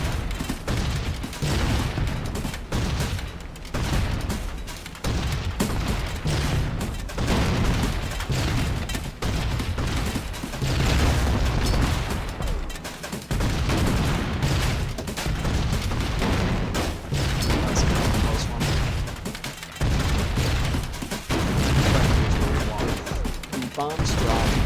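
Bombs drop and explode in a WWII bomber video game, with dense continuous rumbling blasts and crackling gunfire-like bursts layered throughout, loud and unbroken.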